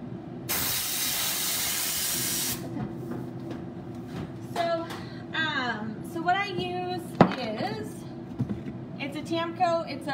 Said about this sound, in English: I'm just making sure my gun's completely cleaned out.